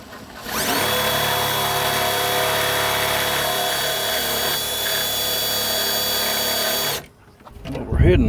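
A power drill runs steadily for several seconds, loud and close, while fitting a headlamp on a Freightliner truck, then cuts off abruptly, followed by faint handling noise.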